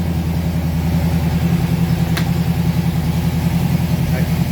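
A TVR Griffith racecar engine idles just after start-up, a loud, even, throbbing burble with a steady low pulse that holds without change, plus one short sharp click partway through.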